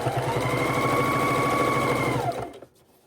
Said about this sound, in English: So we're pulling it around and stitching down.